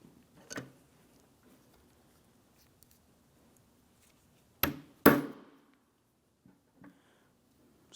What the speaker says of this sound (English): we'll continue on by driving it into position using a hammer as necessary